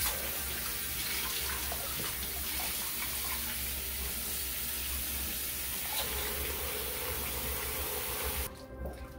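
Running water splashes and gushes continuously while a cleaning bucket is rinsed out, a steady close wash with small shifts in tone, fading to quieter dripping near the end.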